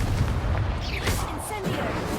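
Confringo blasting spell exploding in the Hogwarts Legacy video game, a single heavy booming blast with rumbling low-end decay, loud and close, over dense game background noise.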